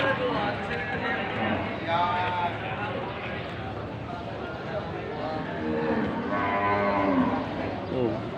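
Water buffalo, carabao on a livestock farm, moo repeatedly in long low calls at mid distance, under steady background noise and people talking.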